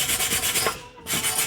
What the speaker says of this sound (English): Hit it with the brush real quick.